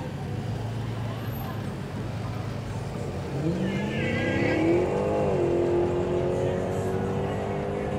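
A car engine revs hard and climbs in pitch on a Miami Beach street during spring break, heard at a moderate distance over steady street and traffic noise.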